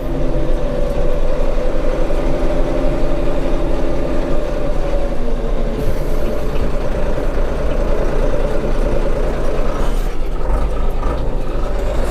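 A Tümosan 6065 tractor engine drones loudly and steadily while driving on a road hauling olives, a continuous heavy diesel rumble with cab rattle throughout, no talking.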